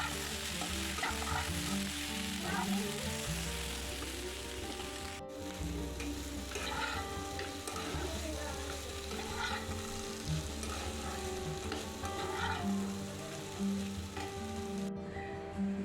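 Fritters fry in a pan of hot oil with a steady, dense sizzle and occasional stirring scrapes, continuous and close throughout, with no voices.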